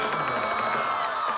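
A studio audience at a comedy variety show cheers and shouts in a dense, steady crowd roar that fills the whole moment without pause.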